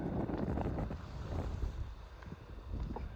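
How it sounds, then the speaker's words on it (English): Wind gusting beside the Shubenacadie River in Nova Scotia, a steady, loud low rumble of buffeting against the microphone that eases slightly toward the end, with no voices. "The wind's starting to lighten up a little bit now"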